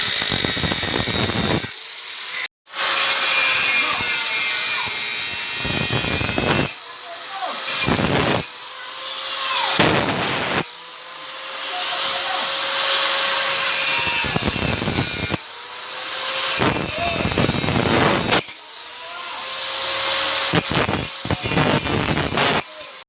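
A power tool cuts through the leaking exhaust pipe of a Honda Supra X motorcycle in a workshop, a loud sustained grinding whine that rises and falls over long stretches with brief pauses, with people talking now and then.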